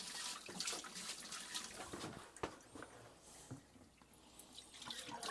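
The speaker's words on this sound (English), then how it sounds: "you got a little bit of trickling out, but it's pretty much just air by now" Water trickles and splutters out of a hose in a field, irregular gurgles and spits mixed with air, fairly close and moderately quiet, with no talking.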